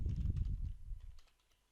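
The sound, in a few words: typing on a computer keyboard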